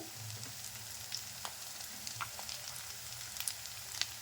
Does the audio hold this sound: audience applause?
no